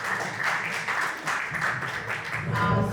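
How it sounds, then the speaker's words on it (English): A crowd claps together in steady, close applause at an organization's eighth anniversary celebration, lasting the full stretch with a slight swell toward the end. "I want you to give all of yourselves a great round of applause."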